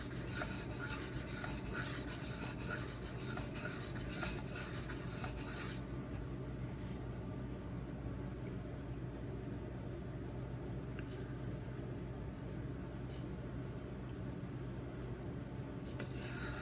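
A Magnacut steel knife edge rasping against a Suehiro Debado whetstone, steady repeated strokes in a dense rhythmic scrape that stops partway, leaving quieter sporadic rubs, close and fairly soft.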